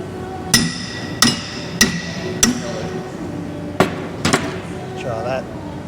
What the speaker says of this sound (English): Maybe a big whack with a hammer.